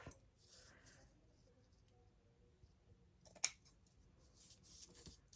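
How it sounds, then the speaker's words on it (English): Scissors snip through pieces of lace, a single sharp cut standing out midway against a quiet, faint room background. "I'm going to snip me a few pieces off."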